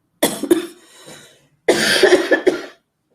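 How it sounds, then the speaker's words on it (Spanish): Two bursts of harsh, close coughing, the first a short pair of coughs and the second a longer fit of several coughs after a brief pause. "Me disculpan porque es que he estado como con una tos hace 2 días"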